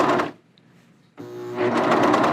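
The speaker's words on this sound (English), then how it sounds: "So I'm just serging onto it, onto the waistband." A serger overlock sewing machine stitches onto a waistband in two close bursts of rapid mechanical whirring, separated by a brief pause.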